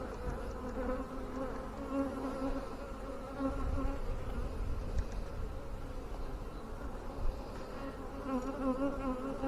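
Honey bees buzz continuously during a hive inspection, a dense close-up hum that swells and eases, with occasional faint knocks of hive boxes.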